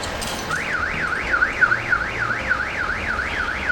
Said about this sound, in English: Is that the car's alarm?